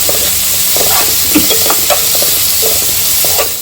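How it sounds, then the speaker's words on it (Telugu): Onions fry in a pan for a dhaba-style kaju paneer masala, giving a steady, close sizzle with light scraping and stirring sounds, and no talking. "వేసుకొని లైట్గా బ్రౌనిష్ అయ్యేంత వరకు ఫ్రై చేసుకోవాలి."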